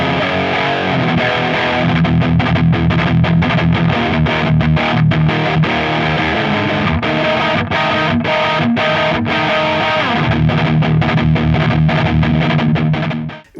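Electric guitar played through a Hotone XTOMP pedal with heavy gain, thick distorted chords and sustained notes ringing loud and continuous, with a brief break before the tone cuts off abruptly at the end.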